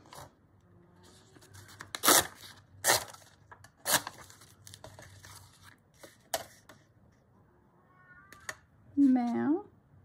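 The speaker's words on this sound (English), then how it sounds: "Meow. Can you hear him? He's persistent." A cat in a craft room gives one clear, rising meow near the end, after quiet paper tearing and crinkling noises scattered through the scene.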